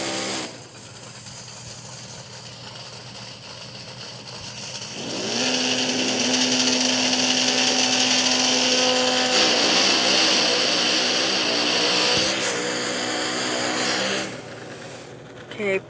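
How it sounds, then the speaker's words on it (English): Racing video game car engine with nitrous boost kicking in, a steady droning whine that rises sharply into a louder sustained tone, then cuts off near the end, with a voice talking faintly. "Put the nitrous on."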